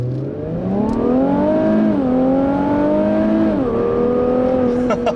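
A 2017 Infiniti Q60 Red Sport 400 accelerates hard from inside the cabin, its engine note rising through the gears with brief dips at shifts, loud and continuous.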